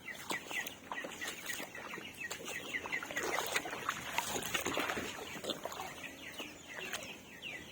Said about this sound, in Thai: ไก่นี่ออกจากบ้านไม่ได้เลยน้ำท่วม